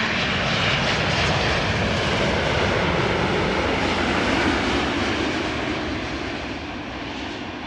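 KLM Boeing 787 airliner arriving from Cartagena, Colombia, touching down with a loud, broad engine roar that stays steady and then eases off toward the end.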